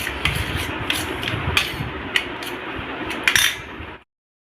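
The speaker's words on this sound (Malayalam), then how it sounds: "ഇനി നല്ലപോലെ ഇളക്കുക." A spoon stirs mango pickle with crushed mustard and turmeric in a metal pot, giving irregular clinks and scraping knocks, close and fairly loud, before stopping abruptly.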